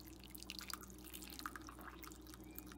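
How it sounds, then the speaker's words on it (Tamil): Hot water poured over soaking rice and tamarind for sambar rice, heard as a soft, steady liquid trickle with a few light drips, close and quiet. "நான் சுடு தண்ணி ஊத்திர்க்கேன்"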